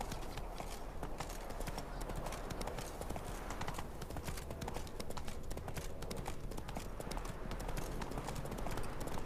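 Roach, the horse in The Witcher 3, trots along, its hooves striking in a steady, even clip-clop rhythm that carries throughout at moderate volume over faint background sound.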